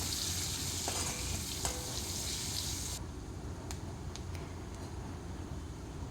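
Curry leaves, garlic and onion frying together in oil make a dense, even sizzle that drops abruptly to a softer hiss partway through, with a few faint stirring clicks.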